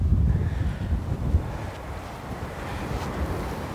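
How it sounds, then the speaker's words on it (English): Strong wind on an outdoor golf course buffeting the microphone, a low rumbling roar that gusts loudly at first and then settles into a steadier, softer rush. "It's so windy."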